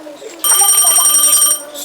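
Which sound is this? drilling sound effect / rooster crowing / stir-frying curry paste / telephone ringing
telephone ringing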